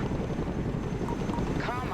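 Chinook cargo helicopter in the video game Broken Arrow, a dense continuous rotor and engine roar, steady and close with no pauses.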